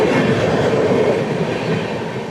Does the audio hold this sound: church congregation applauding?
no